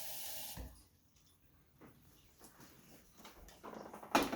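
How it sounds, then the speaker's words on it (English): Water splashes into a cooking pot in a kitchen: a short, close pouring burst at the start, quiet clinks and handling in between, and another brief splash at the end. "First, we're going to put a little bit of water in here."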